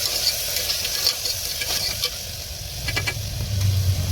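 Chopped tomatoes with salt and turmeric being stirred in a frying pan for a ridge gourd and chana dal curry, a steady close sizzle with scraping spoon strokes that grow busier toward the end.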